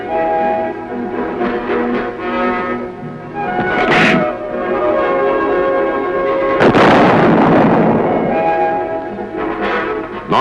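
A tank gun fires a shell during armored vehicle testing at Aberdeen, a sudden loud blast rising over a constant heavy mechanical rumble and drone.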